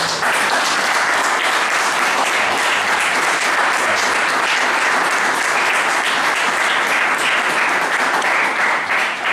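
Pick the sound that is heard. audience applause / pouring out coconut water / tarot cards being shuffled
audience applause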